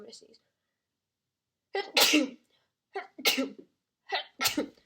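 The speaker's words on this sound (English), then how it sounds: "Wait, I'm gonna sneeze." Three sneezes in a row, close and loud, each with a sharp inhale before the burst, following a short breathy sound at the start.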